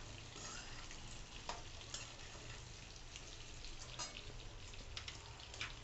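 Raw mango pieces sautéed and stirred in a pan for a sweet-sour pickle, a steady close sizzle with occasional scraping clicks of the spoon, no talking.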